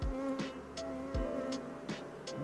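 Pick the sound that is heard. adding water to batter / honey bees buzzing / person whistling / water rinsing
honey bees buzzing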